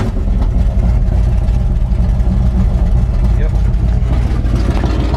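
A 1964 Chevy C10 pickup with a big-block V8 runs close by with a loud, deep, steady idle rumble throughout, while someone briefly speaks over it.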